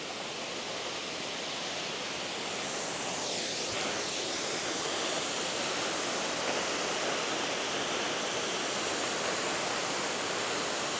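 A waterfall near Iseltwald, Switzerland, tall enough to walk beneath, pours in a steady, dense roar that fills the whole stretch evenly and close by, with no voices.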